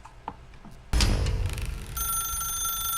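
A telephone rings in The Stanley Parable video game, a sharp electronic bell tone that starts abruptly after a second of quiet and sustains steadily and loudly to the end, with no one speaking.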